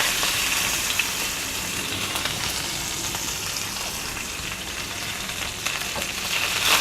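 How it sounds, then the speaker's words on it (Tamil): Curry leaves crackle and fry in hot oil for a spicy chutney, a continuous loud sizzle with a few brief pops, close and without talk. "அப்புறம் கருவேப்பிலை கொஞ்சம் எண்ணெயில் பொரிஞ்சோடனே"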